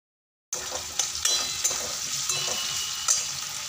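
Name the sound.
stir-frying tomato, capsicum and green chili in a pan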